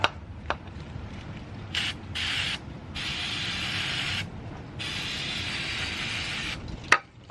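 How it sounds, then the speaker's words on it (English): Brake parts cleaner sprayed from an aerosol can around an oil drain bolt on an Alta Redshift SM electric supermoto, several close, loud hissing bursts of a second or more separated by brief pauses, with no talking. "I'm gonna use some brake parts cleaner."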